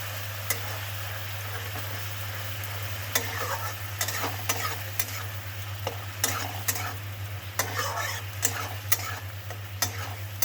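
Spice paste for a fish and mushroom curry sizzling in a pan while being stir-fried, a constant hiss under repeated sharp scrapes and clicks of a spatula, close up, with no speech.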